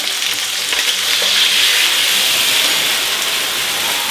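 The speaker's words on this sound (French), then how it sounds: "Maintenant on flambe." Steak flambéed with cognac in a pan gives a continuous loud hissing sizzle that swells through the middle and eases slightly toward the end, with no voices.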